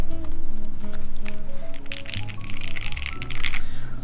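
Typing on a TGR Alice mechanical keyboard with a polycarbonate case, a close, loud run of quick, uneven keystroke clacks in bursts, mixed with some handling noise.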